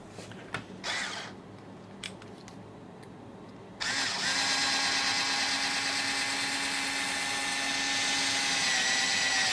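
A few scraping and clicking sounds, then a power tool shaving down a 3D printer extruder part starts and runs in a loud, steady whine until the end.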